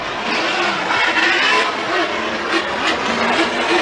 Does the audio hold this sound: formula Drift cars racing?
yes